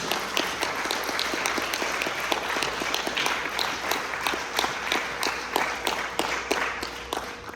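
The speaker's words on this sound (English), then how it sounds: "Up next, give a massive round of applause for Grace." Talent show audience giving a big round of applause, dense, sustained clapping with louder claps standing out close by, no talking over it.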